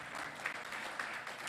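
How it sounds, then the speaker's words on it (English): Faint, distant applause from a seated audience at a chartered accountants' professional study session, a brief steady patter of clapping in a hall. "May I request the August House to give him a big round of applause"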